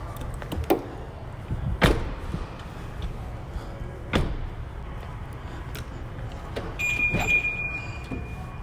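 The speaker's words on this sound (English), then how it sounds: "Let me close these doors" Several sharp thuds of 2011 Rolls-Royce Ghost car doors shutting, spaced apart, with a faint high electronic tone near the end.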